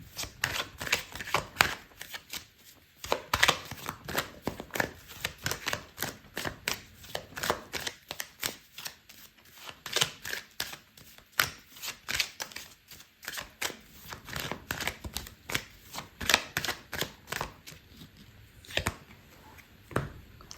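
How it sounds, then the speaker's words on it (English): Tarot cards shuffled over and over by hand, a rapid, riffling patter of card edges in repeated bursts with short pauses between, close and fairly quiet, with no talking. "I'm going to pull out another card for you"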